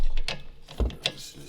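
Wrench loosening a brake caliper bolt on a 2019 Equinox: a few short, close metallic ratcheting clicks and a sharp crack as the bolt breaks free.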